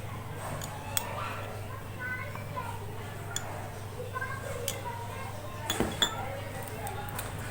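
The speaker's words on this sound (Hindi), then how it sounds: "और इसे अच्छी तरह से मिक्स कर लेंगे।" A spoon stirs berry leaf powder into aloe vera gel in a small bowl, giving soft scraping and occasional light clinks against a steady low hum.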